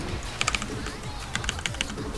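Quick, fairly faint clicks from typing on a computer keyboard come in two short bursts of keystrokes with a pause between them, and no voices.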